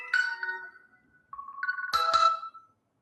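A mobile phone ringtone plays nearby, a bright melodic run of electronic tones, then a short pause and a second louder phrase with sharp chiming notes before it cuts off.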